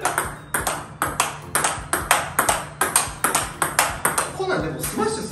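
Table tennis forehand rally with TIBHAR Evolution FX-D rubber: sharp, bright ball strikes and table bounces in a steady back-and-forth rhythm, close and crisp, with people talking in between.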